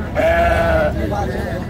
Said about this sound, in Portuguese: É o bode da gente. É os bode.